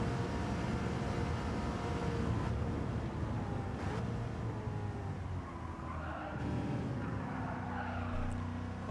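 A GR3 or GR4 race car sliding and skidding in Gran Turismo 7, engine roaring steadily with rising and falling tire squeal as it slides through a corner.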